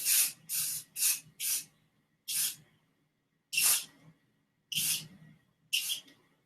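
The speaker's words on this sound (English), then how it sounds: "Now when you put the glow in the dark spray paint on it, you want to look for an off sort of cream white." Glow-in-the-dark spray paint hissing from an aerosol can in eight short bursts, four quick ones, then spaced sprays, close and crisp with silence between.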